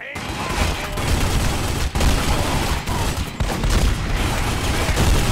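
Dense gunfire in The Godfather video game, including Tommy gun and Magnum shots, loud and continuous with rapid overlapping bursts and brief breaks throughout.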